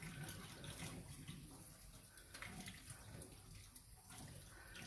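Tap water runs steadily into a sink while a paint brush is rinsed, a continuous close splashing hiss with small fluctuations and no talking.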